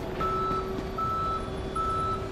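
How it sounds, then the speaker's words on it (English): A next-gen tow truck in Police Simulator sounds its reversing alarm, three evenly spaced tonal beeps over a low steady engine rumble, close and clear with no talking. "here we go with again with the next-gen tow truck"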